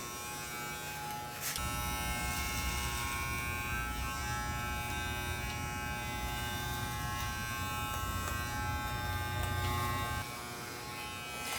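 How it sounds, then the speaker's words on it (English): Electric hair clippers fitted with a guard attachment cut a man's long hair, a steady close buzz that continues unbroken for about ten seconds after a short quieter start. "The benefit of using a guard attachment allows you to be able to cut large sections of hair evenly at a consistent time."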